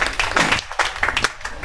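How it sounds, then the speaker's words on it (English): Audience applauding a question at a press conference at a speaking event in Canggu, a short burst of dense clapping that rises, dips briefly and resumes, fairly close and loud with no talk over it. "Great round of applause for that question"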